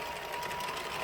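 A circular knitting machine turned by a Zest-Wrench, a continuous whirring, clattering mechanical hum at close range.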